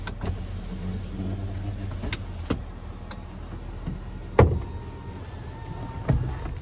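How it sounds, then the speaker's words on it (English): Power sliding rear window on a 2025 GMC Sierra 2500HD AT4 pickup, a low steady electric motor hum running through the cabin with a few short clicks and thumps as it moves and stops. "And there is the power sliding rear window here."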